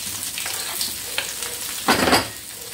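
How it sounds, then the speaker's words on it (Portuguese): Calabresa sausage frying in hot oil in a pan on the stove. A loud, bright sizzle crackles throughout and surges in a sharp burst near the end, likely when the pieces are stirred. "Aqui a gente vai fritar pra depois adicionando os outros ingredientes."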